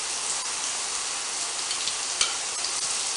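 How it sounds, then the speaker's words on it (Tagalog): Corned beef and scrambled eggs are stirred in a hot pan, giving a steady hiss of sizzling with a few faint scrapes and ticks, close by and with no talking. "So, imimix ko lang yung corned beef"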